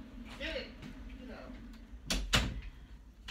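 A door is shut indoors at home, two sharp close thuds landing in quick succession among quiet background voices.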